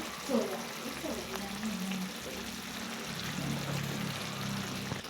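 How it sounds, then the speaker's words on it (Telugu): Mogalai chicken curry gravy simmering in a pan over a medium flame, a steady soft bubbling sizzle that holds at an even level throughout, with a low voice murmuring briefly near the start. "చూసారా బాగా మగ్గుతుంది"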